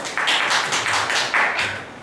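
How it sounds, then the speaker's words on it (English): Classroom applause for a student, a short burst of clapping from a small group of pupils, fairly close and dense, fading slightly at the end. "Please give a round of applause to Ms."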